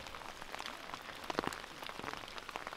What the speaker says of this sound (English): It's getting rainy. I think he's ready to go back too. But I'm going to walk in the rain.